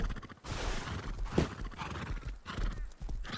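A horse in the survival video game Rust gallops with quick, rhythmic hoofbeats and lets out a sharp neigh midway, moderately close, with soft game ambience behind and no talk.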